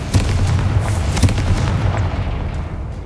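A Confringo blasting spell in a Harry Potter video game erupts as a loud, close, booming explosion, followed by a rumbling tail that slowly fades.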